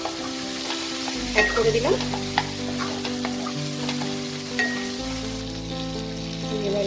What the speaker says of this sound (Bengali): দিয়ে এটাকে ততক্ষণ ভাজবো যতক্ষণ না এই রসুন আর আদার কাঁচা স্মেলটা চলে যাচ্ছে।